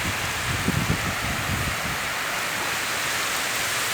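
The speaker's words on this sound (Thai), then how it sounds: "บรรยากาศสุดยอดเลยครับลมพัดคลื่นทะเล" Wind and sea waves on a Thai beach at sunset, a constant broadband wash of surf and gusting wind, steady and fairly loud throughout with no voices.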